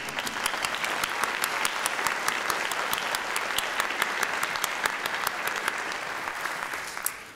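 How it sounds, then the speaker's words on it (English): Steady applause from an audience fills a hall of fame ceremony for a school's alumni, a dense even wash of clapping from a crowd in a large room, with sharper individual claps standing out. "Another round of applause for Jesse."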